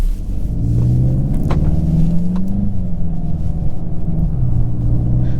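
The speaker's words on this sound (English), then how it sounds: "we're gonna do one more launch control, right? It's a performance vehicle." A 2023 Volkswagen Jetta GLI launches hard with launch control, its engine droning loudly and steadily from inside the cabin with a deep rumble and rising then settling pitch.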